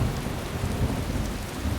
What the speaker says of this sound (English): Thunder rolling in there